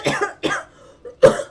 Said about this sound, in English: Maybe at some point I'll be able to do it without coughing.